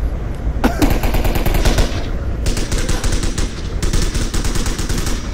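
Rapid automatic gunfire from the VR shooter game Onward, dense bursts of shots rattling continuously throughout with brief crisp cracks layered on top, loud and close with no talk.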